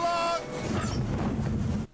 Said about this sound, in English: Choo-choo! Go, Clara, go!